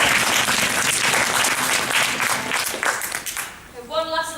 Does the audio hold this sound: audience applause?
yes